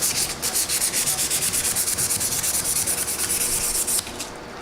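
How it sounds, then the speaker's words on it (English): Sanding a folding knife blade on an Olsen OK Gentleman's folding knife, a steady rhythmic abrasive rasp repeating in quick strokes, close and loud, stopping abruptly near the end. "start doing some sanding."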